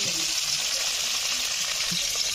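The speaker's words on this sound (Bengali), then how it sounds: "পেঁয়াজ আলু একসাথে ভেজে নিচ্ছি" Onion and potato pieces fry together in hot oil, a steady, close sizzle with a constant hiss and occasional faint stirring scrapes, no voices over it.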